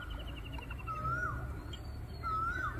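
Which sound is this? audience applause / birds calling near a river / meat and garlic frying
birds calling near a river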